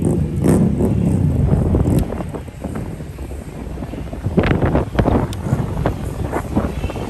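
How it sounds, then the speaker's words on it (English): Heavy wind buffets the microphone in Fort Lauderdale, Florida, a loud rumbling roar that swells and fades in gusts. "Wow, it's windy."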